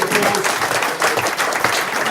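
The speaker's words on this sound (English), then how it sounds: "Round of applause." An audience at a pub event for a rugby podcast's London Pride versus Guinness tasting gives a loud, sustained round of applause. The clapping is dense and continuous from start to finish, with faint crowd murmur underneath.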